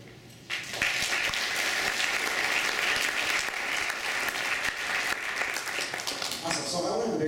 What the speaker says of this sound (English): please give yourselves a round of applause for doing everything you've done for these young people